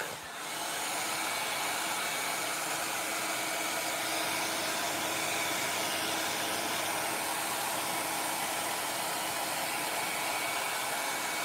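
A heat gun blowing steadily to dry light oak wood stain on a power-carved wooden wall hanging, a loud continuous whooshing drone that holds unbroken throughout with no talking.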